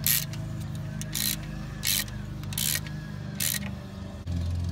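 A hand ratchet tightens the bolts on a Rough Country differential guard, giving several short bursts of rapid clicking up close between quieter pauses.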